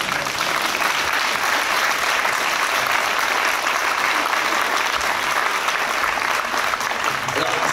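Sustained audience applause at a French panel discussion, a steady wash of many hands clapping for several seconds at even loudness, with faint voices underneath.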